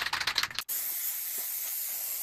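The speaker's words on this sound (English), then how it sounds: "I begin by sticking a paper template to some hardboard with spray adhesive." Spray adhesive hissing steadily from an aerosol can onto hardboard to fix a paper template, a close, continuous hiss that starts abruptly after a brief burst of other noise and keeps going without a break.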